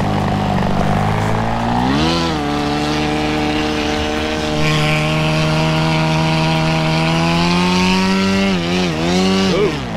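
A paramotor engine bought from AliExpress idles at very low revs, around 900 to 1,000 RPM, a loud, close, buzzing two-stroke drone with slight wavering in pitch throughout.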